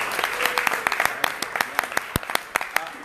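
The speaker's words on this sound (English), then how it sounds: "big round of applause for this guy overcoming adversity" A small seminar audience applauds, giving a thinner round of individually distinct claps with sharp, close hand strikes standing out over a softer background patter.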